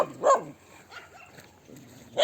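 Stray dogs bark near a town, a couple of sharp, loud barks at the start and another burst at the end, with quieter yips and distant barking in between.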